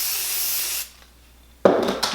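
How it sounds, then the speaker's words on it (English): Hair spray misted onto straightened hair in a styling session, one steady hiss lasting almost a second, then a pause and sharp handling clatter close by. "I'm gonna put a little bit of a spray"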